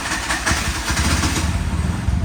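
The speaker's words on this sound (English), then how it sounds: "Start the motor. Keep it 2-3 minutes like this." The small engine of a Sri Lankan tuk tuk idles steadily while it warms up after starting, a close, even, rattly putter that runs throughout with no talk.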